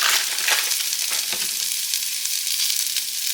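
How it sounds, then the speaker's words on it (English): Bacon bits sizzle and crackle in a hot pan, a bright, steady frying hiss with a few sharper pops and spatters, close and unbroken throughout. "go ahead and add our bacon bits in"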